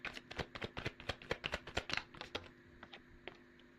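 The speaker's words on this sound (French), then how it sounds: "je vais prendre toutes les cartes" A deck of tarot cards being handled and shuffled, with a quick run of close, crisp card snaps and flicks that slow and thin out toward the end, no talk over them.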